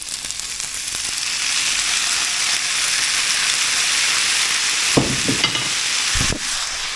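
Chopped tomatoes go into a pan of browned frying onions for chakchouka, a loud continuous sizzle with a few sharp stirring scrapes and clatters toward the end.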